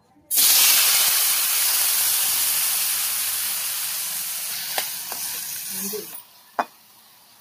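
Tomato pieces hit hot oil in a pan with a sudden loud sizzle that hisses steadily and slowly fades, followed by a few utensil clacks near the end.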